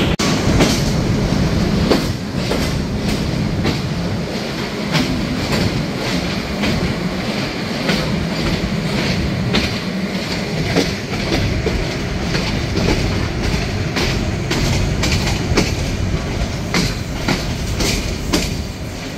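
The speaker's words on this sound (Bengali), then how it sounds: "ট্রেনটি ছেড়ে যাচ্ছে রাজশাহী রেলওয়ে স্টেশন।" Silk City Express intercity train pulling out of Rajshahi railway station in Bangladesh, a loud continuous rumble with rhythmic clickety-clack of wheels over rail joints and occasional squeals, heard from on board.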